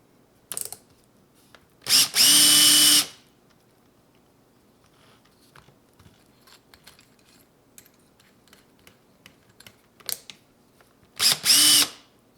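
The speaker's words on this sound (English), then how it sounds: "I have to use a drill to get them in" A power drill drives metal pins into a handmade sci-fi knife in two loud whirring bursts of about a second each, one near the start and one near the end. Light tapping and handling noises fill the quiet gap between them.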